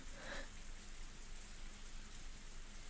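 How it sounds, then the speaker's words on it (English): Heavy rain in the video game Higurashi When They Cry Hou, Tatarigoroshi chapter, falls as a steady, dense hiss that stays fairly faint and even throughout, with no speech over it. "the sound of the heavy rain"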